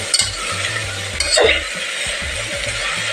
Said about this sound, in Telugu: క్యాబేజీని కూడా కొంచెం ఈ నూనెలో కానీ నెయ్యిలో కానీ మగ్గనిచ్చేసేయాలి